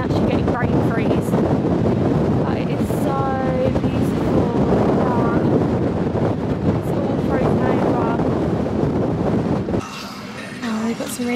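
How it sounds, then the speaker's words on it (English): Strong Icelandic wind buffeting the microphone in loud, continuous rumbling gusts that almost cover a voice talking through them, easing slightly near the end. "It is so windy, but this is so beautiful."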